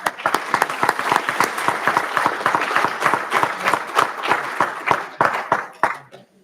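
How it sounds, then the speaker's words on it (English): An audience at a Scout Eagle Court of Honor ceremony claps together in a close, lively burst of applause that holds steady for several seconds, then thins out into a few last scattered claps. "Let's give it a applause for Tim."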